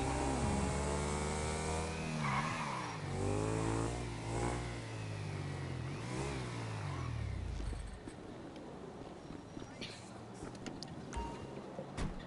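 Car engine in GTA Online revving through rising and falling harmonic sweeps for about eight seconds, then dropping to a lower idle with scattered game noises; loud and close, no talking.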